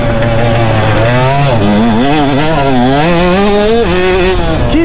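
KTM 150 SX two-stroke dirt bike revving on a track, a loud, close, buzzing engine whose pitch climbs and dips through repeated throttle blips without pause.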